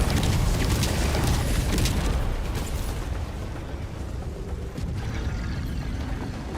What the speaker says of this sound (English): That's like a sustained barrage.